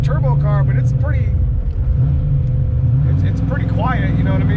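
A turbocharged Ford Mustang Foxbody hums with a low, steady engine drone heard from inside the car, fairly loud and constant, while someone talks over it throughout.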